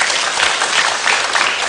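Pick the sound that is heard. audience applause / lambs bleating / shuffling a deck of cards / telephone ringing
audience applause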